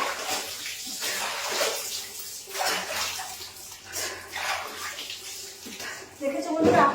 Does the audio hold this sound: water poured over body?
yes